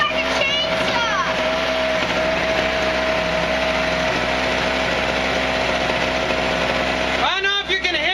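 A $99.99 Harbor Freight portable generator engine runs steadily and loudly after a pull start, with a raspy, chainsaw-like drone throughout. It cuts out briefly near the end, and people talk over it.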